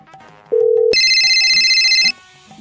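A phone rings loudly, a short tone then a sustained bright electronic ringtone lasting about a second, heard over faint background sounds.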